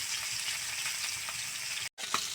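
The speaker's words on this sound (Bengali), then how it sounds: "এখন লাল লাল করে ভেজে নেব।" Silver carp pieces frying in hot oil in a pan give a steady, close sizzle that runs unbroken, drops out briefly near the end, then resumes with a small pop.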